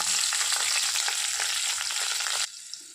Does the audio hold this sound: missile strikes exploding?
no